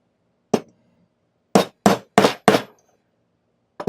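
Five sharp blows from a non-metal hammer ring out close by while shaping leather for an apron: one alone, then four in a quick cluster, with a final strike at the very end.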